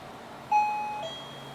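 A basic $9.99 wireless doorbell plays a single clear chime tone that rings out briefly and fades, heard alone against a quiet room.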